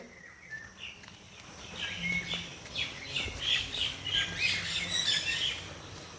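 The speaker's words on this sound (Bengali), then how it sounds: "পাখিদের আওয়াজটা নিশ্চয়ই তোমাদের কানে আসছে" Many birds squawk and chirp together in a steady, shrill chorus inside a caged forest aviary, growing busier midway, with soft background noise and no talking.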